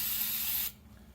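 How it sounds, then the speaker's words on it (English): Short burst of lithium grease spray aimed at the brake pads of a 2016 Tesla Model X 90D, a close, bright hiss lasting under a second before stopping sharply. "I'm going to put a little bit of lithium grease on the sides where they're going to contact the"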